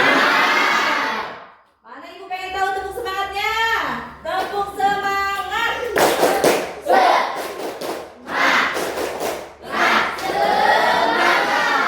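A school class performs a rhythmic spirit clap, patterned group claps punctuated by chanted voices and cheers, loud and close, with children shouting along in unison between the beats.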